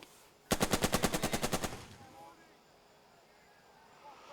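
A rapid burst of about a dozen evenly spaced automatic gunshots hammers an anti-tank gun in the war game Burden of Command, loud and close, followed by a fading tail and faint background noise.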